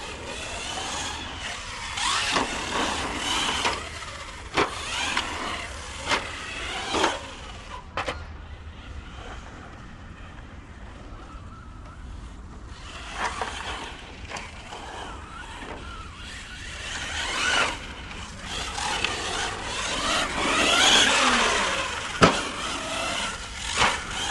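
A Hobao Hyper 10SC 2.0 RC short course truck drives about outdoors, its electric motor whining in bursts with sharp clicks and knocks from bumps, loud and close, quieter in the middle stretch.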